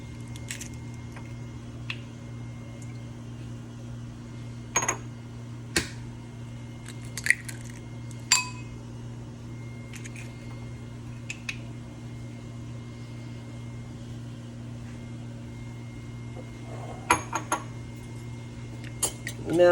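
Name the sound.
cracking eggs into a bowl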